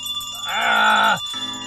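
Bells in a house ring out together as an audio-drama effect for A Christmas Carol: a sustained, resonant tonal swell rises, holds loudly for under a second, then cuts off abruptly.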